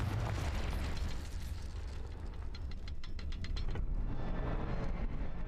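Confringo fire spell blasting in the Hogwarts Legacy video game, a sustained rumbling explosive roar with crackling bursts, loud and dense throughout.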